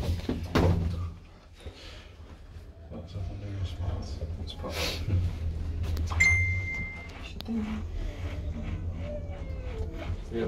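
Kone lift doors in a car park in Leeds slide and thunk shut and open again, with a clunk early on and mechanical shuffling, over a low hum and a short chime tone.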